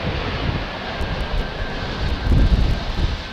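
Airliner arriving on runway 18R at Amsterdam Schiphol Airport in crosswind, its engines giving a loud, steady roar that swells slightly as it passes by slowly, close and unbroken with no voices.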